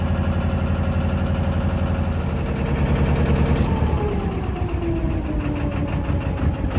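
A 13-horsepower Lister engine runs steadily aboard a canal narrowboat, a continuous low, even chug close by with no talk over it.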